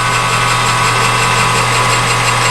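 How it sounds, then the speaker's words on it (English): A drill bores into aluminum in a workshop, a loud, steady whine with a constant hum and no breaks throughout. "One thing about drilling aluminum you have to be careful is it does gall."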